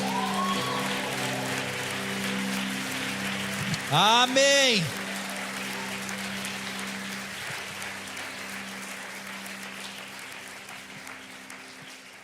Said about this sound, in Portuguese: Se você crê agora sim, aplauda Ele.